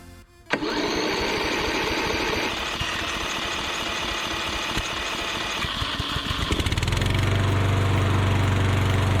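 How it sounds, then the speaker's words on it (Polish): A small STIGA Combi 753 SE lawn mower engine catches after a brief pull and runs loudly and steadily, settling into a rough, buzzing idle up close. "Odpalamy kosiarkę."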